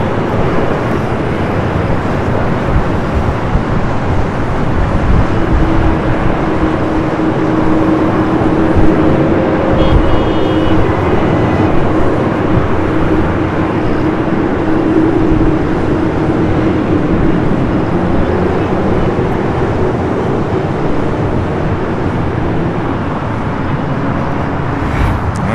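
A Delta Airlines Boeing 767-300ER bound for JFK taking off from runway 4 Left at Los Angeles International Airport, a loud sustained jet engine roar rumbling through the whole stretch, heard from nearby with wind buffeting.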